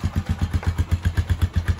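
A Rusi Macho 175 motorcycle engine idling up close, its steady, loud, even putter of regular firing pulses running alone without talk.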